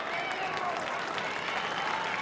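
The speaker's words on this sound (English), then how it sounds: "he'll hear those applause from the crowd" A stadium crowd at a 2004 Australian football match between Kangaroos and Port Adelaide applauds an injured player as he walks off, a steady, loud, even wash of clapping with no break.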